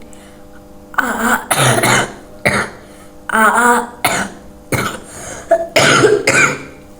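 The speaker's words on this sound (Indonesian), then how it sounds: "maaf lagi batuk parah" Several harsh coughs and throat-clearing bursts come in uneven clusters, close and loud, with quiet pauses between them.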